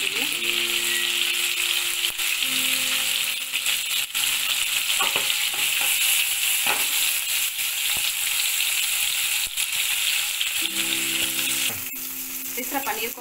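Paneer frying and browning in melted ghee and oil, a loud steady sizzle close up, with occasional stirring clinks and brief musical tones at the start and end.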